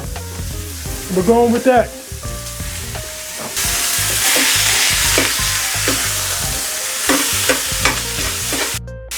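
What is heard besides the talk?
ground beef (80/20) frying in a pan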